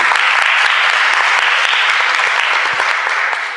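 Loud, close applause from a school gathering, thick continuous clapping at full strength from start to finish, easing off slightly at the very end.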